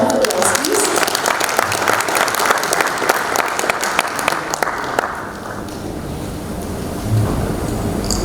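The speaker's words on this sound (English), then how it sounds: "Can we have a round of applause, please?" Round of applause from the audience at a shipping industry inaugural ceremony, loud continuous clapping that thins out and fades toward the end.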